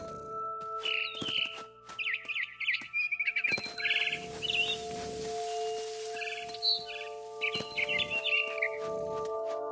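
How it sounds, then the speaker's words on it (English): A barn swallow chirps and twitters near a window in What Remains of Edith Finch, with bursts of bright rapid calls broken by pauses and set against steady background tones, without speech. "Then I heard chirping outside my window. It was a barn swallow going back to her nest."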